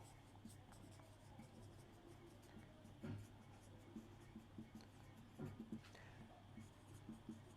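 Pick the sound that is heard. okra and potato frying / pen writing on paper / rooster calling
pen writing on paper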